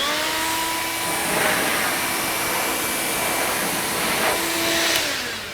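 A McKee's 37 Turbo Car Dryer blower whirs continuously with a high whine and rushing air, swelling slightly in intensity a few times, loud and close, no talking.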